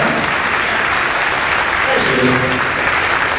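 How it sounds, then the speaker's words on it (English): Crowd applause fills a high school event such as a color guard recognition, steady and sustained throughout, with a voice speaking briefly over it. "What a big round of applause"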